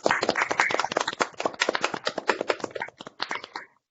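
Online seminar audience clapping together after unmuting, a dense patter of overlapping claps that runs steadily for several seconds, then thins out and stops near the end.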